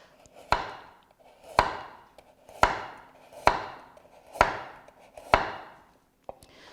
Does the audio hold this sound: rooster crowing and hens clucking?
no